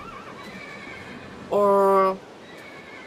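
A Minecraft horse from the Mo' Creatures mod lets out a single loud, clear whinny of about half a second, standing out over quiet background chatter.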